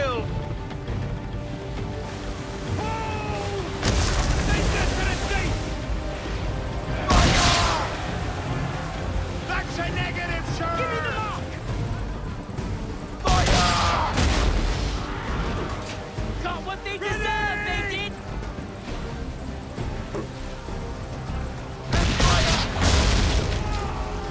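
Ship cannons firing during a naval battle in Assassin's Creed 3, several loud booming volleys spread across the stretch over wind and sea noise, with shouted commands and voices in between.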